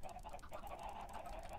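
Chickens from Minecraft (Stoneblock 3 modpack) cluck in a steady, faint, nasal chatter that runs throughout, with no voices over it.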